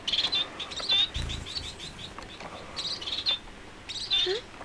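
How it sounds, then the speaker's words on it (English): A small pet finch chirps in quick, bright bursts, repeated high tweets coming close and fairly loud, with a brief thump partway through and no speech. "It's my little finch. She just had its first flight."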